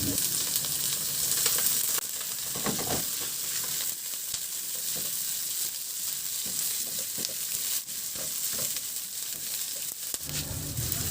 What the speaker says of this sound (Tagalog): Sa disim na kawali, igisa ko na yung bawang. Ilagay ko na rin yung sibuyas.